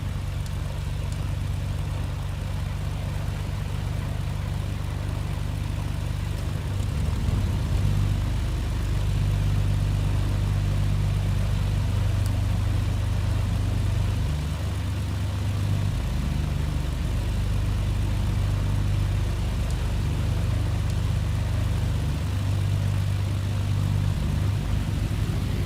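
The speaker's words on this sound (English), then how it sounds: "apply a little bit of gas or fuel and start the right engine" A Britten-Norman BN2 Islander twin-engine aircraft in Microsoft Flight Simulator runs its engines at a steady, loud drone throughout, with a deep continuous rumble and no talking.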